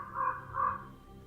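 A raven's croak added as a sound effect in a reading of Poe's poem "The Raven": two harsh, nasal caws in quick succession, fairly close and clear, with no voice over them.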